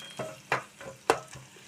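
Thinly slit green chillies fry in a pan for okra curry, heard as a few close, crisp sizzling scrapes of stirring in a short, quiet burst without speech.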